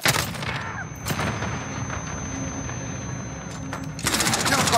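Gunfire and a grenade blast in the video game Modern Warfare: steady rapid automatic fire rolls on throughout, with a sharp burst near the start and heavier, denser firing surging up at the end.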